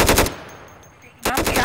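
Rapid automatic gunfire in the tactical shooter Insurgency, loud close bursts at the start and end with a quieter gap of ambient hum between them.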